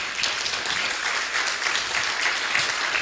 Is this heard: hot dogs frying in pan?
no